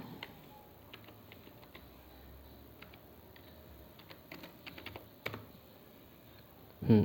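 Fingers type on a computer keyboard, producing quiet, irregular close clicks over a faint room hum and ending in a louder knock, with no voices.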